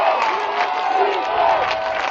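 A college football crowd at a Nebraska Wesleyan versus Northwestern College game cheers and shouts in a loud, sustained roar, with voices rising and falling across the stands.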